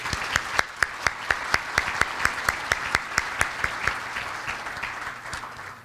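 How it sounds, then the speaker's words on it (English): Sparse applause for event sponsors at a regional leaders' awards gathering, a handful of sharp, evenly spaced claps close by that slowly fade and thin out toward the end. "So how about a warm welcome of applause for them?"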